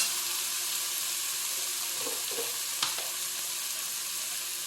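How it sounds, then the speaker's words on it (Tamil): Onions frying in a pan for pepper chicken fry, a continuous hissing sizzle close by, with a couple of faint clinks around the middle. "பெப்பர் சிக்கனுக்கு பாருங்கள் நல்ல வெங்காயம் நல்லா வதங்கட்டும்"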